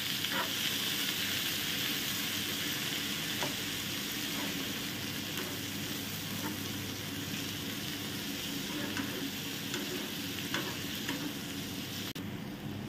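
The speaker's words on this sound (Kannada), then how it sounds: "ಇದನ್ನು ಕೂಡ ಇದಕ್ಕೆ ಹಾಕುವ. ಹಾಗೂ ಇದು ಸ್ಮೂತ್ ಆಗುವ ತನಕ ಚೆನ್ನಾಗಿ ಫ್ರೈ ಮಾಡಬೇಕು." Two chopped tomatoes fry in a pan with a steady, close sizzle, broken by occasional stirring clicks and scrapes, with no talking.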